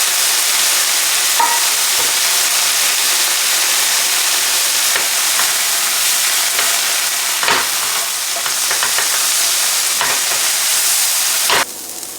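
Onions, peppers and mushrooms sizzle steadily in a pan, with a little water added to steam them down. The frying hiss is loud and continuous, with occasional soft stirring clicks and no talk.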